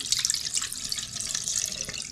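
Used photo-processing water being poured out of a container into a sink, a steady close splashing gush that runs unbroken throughout.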